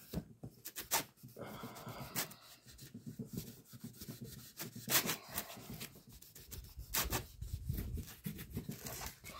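Cloth rubbing stain into a wooden piece with steady, close scrubbing strokes, soft and raspy, repeating in uneven bursts with brief pauses, faint talk occasionally in the background.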